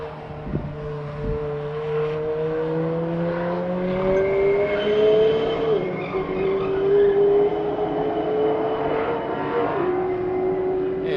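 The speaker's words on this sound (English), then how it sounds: "here comes Andy Hollis in the 720" Race cars, a McLaren 720 among them, pass on a track during a morning session; loud engine notes rise and fall in pitch as the cars sweep by, with a steady roar throughout.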